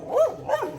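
German Shepherd and Askal mix dog on a farm giving two quick, sharp barks close by, loud and alone with no talk.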